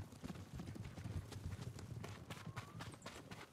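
Horse hooves clip-clop in a fast, rhythmic run in the video game Ghost of Tsushima, quiet and steady with some brighter game effects over the top.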